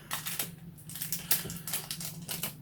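A paint brush package, holding filbert, diagonal and spot brushes, is torn open by hand without scissors: close, crinkly plastic crackles and snaps in irregular bursts over a low steady hum, with no talking.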